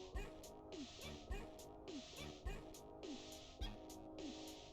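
A dog barks in a steady repeating rhythm, roughly one bark per second, loud and close over a busy game soundtrack with music.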